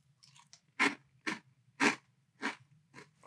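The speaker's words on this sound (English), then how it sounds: "Wow, a huge initial crunch. Did you hear how loud that was?" Crunchy chewing of Austrian Honey Bsss Pops dry cereal with a thick honey coating, heard as about six loud, close, separate crunching bites in a quiet room.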